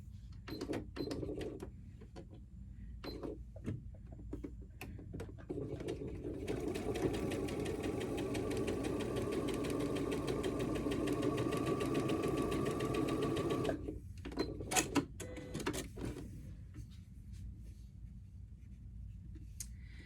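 A sewing machine stitches quilt block fabric in one long steady run of rapid mechanical chatter, framed before and after by sharp clicks and handling of the fabric, close and without speech.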